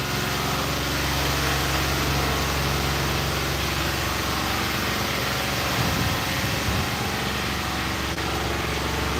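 A 2018 Nissan NV 3500 with a 5.6 L V8 suffering sludge buildup runs steadily at about 2,700 RPM, giving a constant loud engine drone that holds even from start to finish, with no talking.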